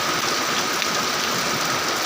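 Rain falling outdoors in rural Thailand, a steady, dense hiss of drops on surfaces that continues evenly throughout with no voices.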